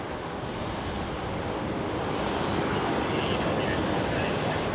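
A Qantas Boeing 787-9 Dreamliner departs Brisbane Airport, a broad, steady jet roar that holds and slowly builds over several seconds, heard at a distance with voices faintly mixed in.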